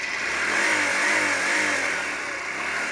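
A Honda Varadero XL 125 motorcycle engine runs steadily just after starting, with an even mid-pitched putter throughout, close and fairly loud.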